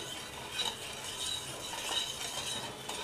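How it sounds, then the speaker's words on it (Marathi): Colostrum milk is stirred with sugar until it dissolves, a faint, steady scraping swirl with a few light clinks of the spoon against the vessel, no talking. "ही साखर पूर्णपणे विरघळेपर्यंत ह्याला मी थोडंसं हलवून घेते"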